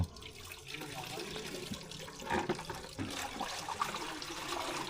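Water runs from a household tap in a steady splashing stream, with a few clattering knocks and a voice speaking over it.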